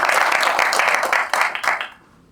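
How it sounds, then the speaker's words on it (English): A small audience claps in a round of applause at a technical presentation, dense clapping for about two seconds before it quickly fades to quiet. "Give him a round of applause."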